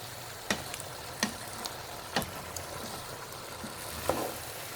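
Okra and vegetables for pinakbet fry in a pan and are stirred, a quiet sizzle underneath a handful of sharp spatula scrapes and taps spaced unevenly, close, with no talking.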